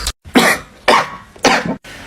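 Three sharp, close coughs from one person come in an even rhythm, each a harsh burst separated by brief pauses, with no talking in between.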